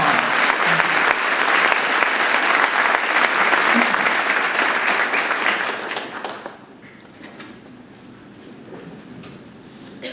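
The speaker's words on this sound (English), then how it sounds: "So round of applause to Marty." Veterans Day ceremony audience giving a round of applause, full steady clapping from many people that tapers off after six seconds into quiet room ambience with faint murmurs.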